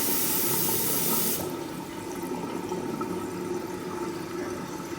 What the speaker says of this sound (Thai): ตรวจสอบการไหลของโอเวอร์โฟ นะครับ ตรวจสอบการติดตั้งของอ่างล้างหน้านะครับ